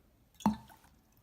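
A ball dropped into a container of water lands with a single close, soft plop and splash, then a brief fading gurgle as it sinks, in an otherwise quiet room.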